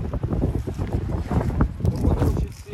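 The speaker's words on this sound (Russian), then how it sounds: "Порывы мощные приходят." Strong wind gusts on an exposed mountain slope batter the microphone with loud, buffeting low roars that surge and dip continuously.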